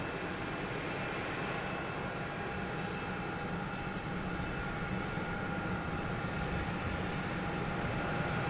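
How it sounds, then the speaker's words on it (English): A JetBlue Airbus A220 jet takes off from Boston Logan, its engines a fairly faint, even roar with a thin whine riding on top that stays constant throughout. "we have a JetBlue taking off to Syracuse. An A220, flight 845"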